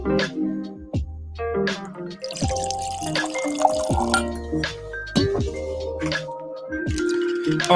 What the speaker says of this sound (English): let me pour some whiskey